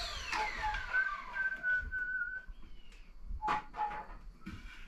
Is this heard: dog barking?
no